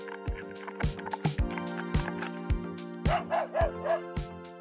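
A dog barks repeatedly in short, sharp yips over steady background music, with a few whimpering, whining notes near the end.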